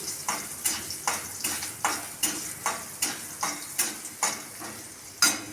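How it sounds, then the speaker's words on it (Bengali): Drumstick pods (sajne data) frying in oil, a continuous sizzle broken by a brisk, regular run of utensil scrapes and stirs, close and fairly loud. "এই সজনে ডাঁটা আমি তেলে ভাজছি।"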